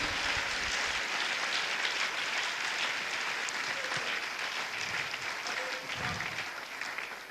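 A church congregation applauds during a pastor's service, dense, sustained clapping that holds steady throughout at a moderate distance.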